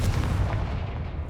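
A Confringo fire spell explodes in the Hogwarts Legacy video game, a loud, dense low boom that rumbles on steadily through the whole moment with no voices.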